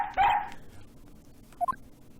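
Police dog in the video game Ace Attorney Investigations, one sharp bark followed by a quieter pair of short yips, clean and alone against near silence.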